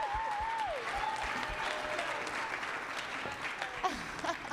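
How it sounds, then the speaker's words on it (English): Steady audience applause rolls on for the keynote speaker Elena Rose at the 2023 GRAMMY U Conference, a dense wash of clapping with a few faint whoops and voices rising above it. "please give a round of applause for this amazing human being"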